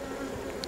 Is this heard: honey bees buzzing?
yes